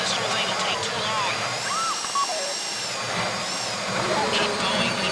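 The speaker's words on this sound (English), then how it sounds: "How you doing with that drill?" A steady mechanical drill whine in Grand Theft Auto V Online runs continuously with shifting pitch tones, under a busy background of game noise and voices.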